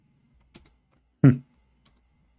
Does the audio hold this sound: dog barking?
no